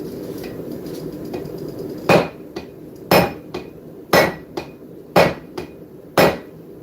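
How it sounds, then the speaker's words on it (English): Hammer blows forging metal on an anvil, flattening a piece into a mushroom shape in a workshop: five heavy ringing strikes about a second apart, each followed by a lighter tap, over a steady background hum. "I'm going to forge it out and create that little mushroom effect."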